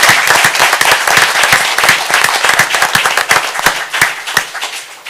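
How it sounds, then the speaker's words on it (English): Hearty applause from the audience at a city commission meeting, many hands clapping in a dense, close, loud burst that thins slightly toward the end. "Y'all would give him a round of applause"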